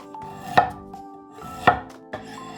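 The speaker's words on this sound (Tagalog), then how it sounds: "Simulan na nating hiwain ang mga sumusunod na ingredients" A knife chops onion, lemongrass and ginger on a board, three sharp, close thuds spaced about a second apart with quiet gaps between them and no voices.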